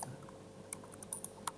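Faint keystrokes on a computer keyboard while C# code is entered: a handful of light, uneven clicks with short pauses between them in a quiet room.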